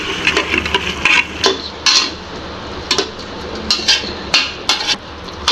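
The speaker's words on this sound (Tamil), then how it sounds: "நல்லா வதக்கிக்கலாம்" Vegetables sautéed in a pan for vegetable biryani: a metal spatula clanks and scrapes in irregular bursts over a light sizzle, close and fairly loud, no talking.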